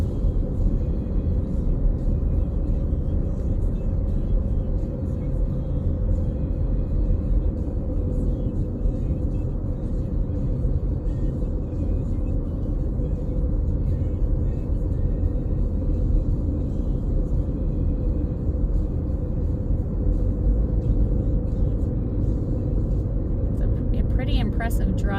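Steady low road rumble inside a car driving in through the west entrance of Capitol Reef National Park, constant and unbroken for the whole stretch with no speech.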